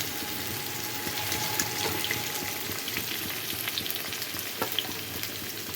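Boiled cauliflower and potatoes fry lightly in oil over low gas, giving a steady, soft sizzle with faint crackles and occasional stirring clicks throughout, close and without talk.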